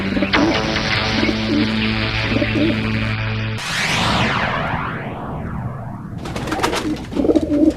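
Pigeons cooing in soft repeated low calls, close by, mixed with layered dramatic music and sweeping tones, with no talking.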